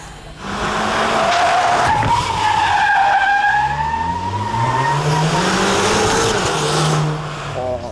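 A car engine roars hard as tires squeal and skid at length around a TK, loud and close, the pitch rising and falling.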